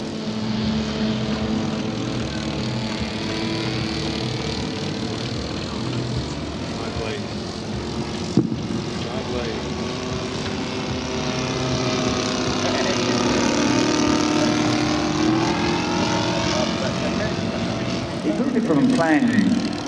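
A quarter-scale radio-controlled Fieseler Storch Fi 156 STOL model with a 12-foot span and a Lazer 330 V-twin engine drones steadily past, its pitch sliding as it goes by, growing louder toward the end, with people talking over it.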